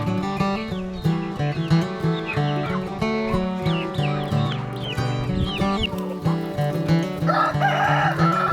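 Chickens being raised for profit fill the air with dense, overlapping clucking, and a rooster crows loudly and close among them for several seconds.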